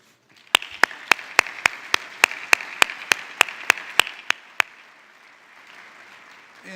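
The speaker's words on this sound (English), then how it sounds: "So please give a round of applause" Thin applause at an award ceremony presenting a World Betterment Award: a steady run of about a dozen evenly spaced, crisp claps over a quiet room tone, then stopping abruptly and leaving near silence.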